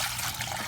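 Water pours in a brief, steady splashing stream into a cats' water bowl, close up.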